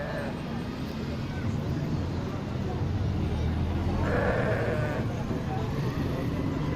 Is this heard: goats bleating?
yes